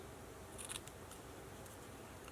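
Scissors snipping through paper while cutting out a craft shape with a deeper tail, a few quiet, close cuts in an otherwise still room.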